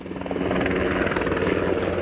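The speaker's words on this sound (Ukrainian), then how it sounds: "О, Міша, вертоліт!" Helicopter passing close by over the Columbia River near Rowena Crest, Oregon, a loud, steady rotor thrum with rhythmic blade chop that swells slightly as it nears, heard alone without talk.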